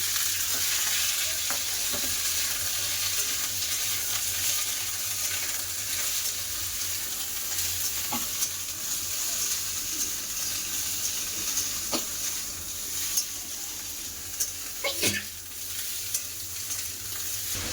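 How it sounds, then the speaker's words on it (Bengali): Snake gourd and potato pieces fry in hot oil with nigella seeds and green chilli, giving a steady, close sizzle throughout with occasional stirring clicks and scrapes, no voices. "তেল গরম হয়ে গেছে দিয়ে দেবো কালো জিরে একটা কেটে রাখে কাঁচা লঙ্কা দিয়ে দেবো চিচিঙ্গা আলু"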